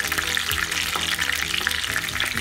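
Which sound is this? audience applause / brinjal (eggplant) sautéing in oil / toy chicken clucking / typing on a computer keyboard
brinjal (eggplant) sautéing in oil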